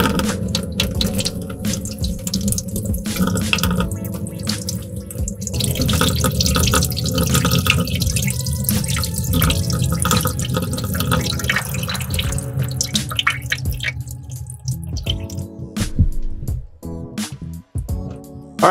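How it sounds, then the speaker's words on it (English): Water runs steadily from a kitchen tap as cured salmon gravlax is rinsed under it, a loud continuous splashing that breaks into brief drips and spatters toward the end. "All right, now that we've rinsed our fish"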